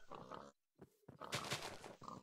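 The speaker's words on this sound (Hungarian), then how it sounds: "Gyilkolunk egy kis malackát." Pigs oink in a Minecraft hardcore survival game, with short snorting grunts coming in bursts, broken by a brief silence and then louder overlapping squeals, with no talk over them.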